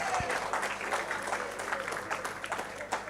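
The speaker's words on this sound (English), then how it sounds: "Give him a big round of applause." Steady applause from a banquet crowd, many hands clapping in a dense wash that holds at an even level throughout.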